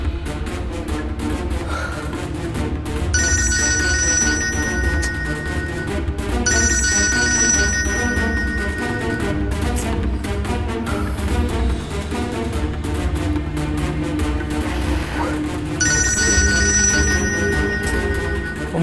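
A telephone rings while a call is placed to a mother in a Hindi crime drama, with repeated electronic ring bursts sounding loud over a dense, continuous background score.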